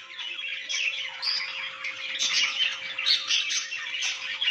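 Budgies chirping and squawking in a cage, five breeding pairs in a home aviary, a dense and continuous chatter of overlapping tweets and chirrups, close and fairly loud.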